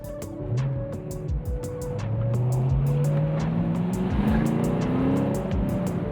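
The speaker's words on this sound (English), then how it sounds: "It's impossible to keep your foot off the floor in this car." A Ford Mustang GT V8 engine accelerates hard, its rising tone climbing steadily through a gear, loud and close with a deep rumbling undertone and occasional clicks, no voices.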